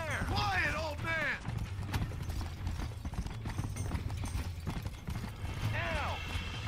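Horse hooves clip-clop at a walk in Red Dead Redemption, a steady rhythmic patter running the whole time with a couple of whinnies over it.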